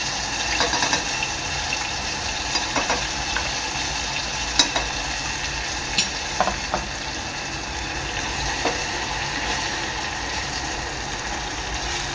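Ground masala paste sizzles in hot oil with a steady close hiss, stirred with occasional scraping clicks and soft pops, for an Agri-Koli tomato curry.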